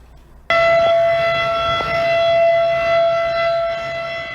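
A loud civil defense siren warning of high water levels on the Mackenzie River during spring breakup starts abruptly and holds a steady, sustained wailing tone with rich harmonics.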